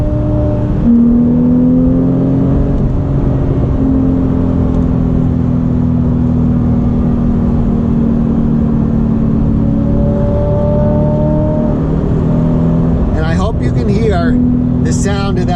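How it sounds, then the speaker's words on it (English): A Porsche 911 GT3 RS engine drones steadily from a following car on a winding road, its pitch rising and falling through the gears, with a voice talking over it near the end. "The sound of that glorious GT3RS."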